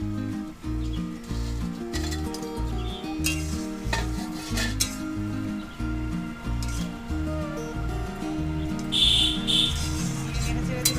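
Bata fish drop into hot oil in a frying pan while a Bengali bata fish curry is cooked, giving a steady close sizzle with stirring scrapes and some clattering over it throughout.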